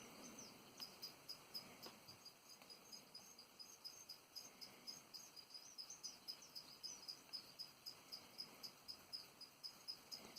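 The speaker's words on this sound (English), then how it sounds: "I've got a little small cricket." A small feeder cricket chirps in a steady, rapid rhythm of short high pulses that keeps going throughout, close by and fairly faint, with no one talking.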